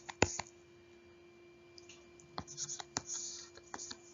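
A pen sketches a cubic graph on paper. Faint scratchy strokes and light taps come after a sharp early click, growing busier toward the end, all close and quiet.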